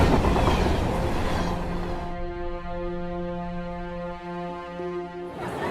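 A locomotive moving on rails opens with a dense rumbling roll, then settles into a sustained, steady tonal drone with a lower mechanical hum beneath it, ending with another burst of rolling noise.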